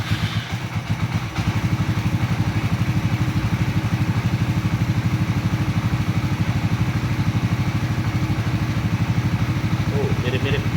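A Suzuki V-Strom 250 engine idling close by, a steady rapid thrumming pulse with mechanical clatter running throughout after a brief start, with a voice talking near the end.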